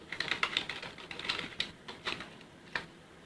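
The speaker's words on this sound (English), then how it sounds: "So let me type that." Rapid, uneven keystrokes on a computer keyboard as someone types in a sheet name, a close, crisp clatter of separate clicks with short pauses, no voices.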